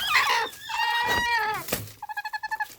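Hen in a shed clucking close by, a rising, bird-like call followed by a quick run of short, evenly spaced clucks, heard alone without talk.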